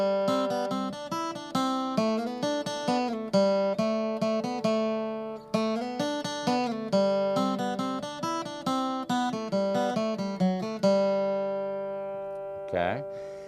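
Bluegrass flatpicked acoustic guitar plays a version of Boil the Cabbage Down with 2-4 slides, a steady strummed and picked rhythm of bright, close notes, ending on a ringing chord and a final scrape.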